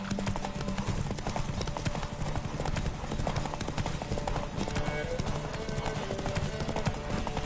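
Roach, a horse in The Witcher 3 on PS5, gallops with rapid, steady clip-clop hoofbeats that run throughout, loud and close, while game music plays and a voice speaks briefly.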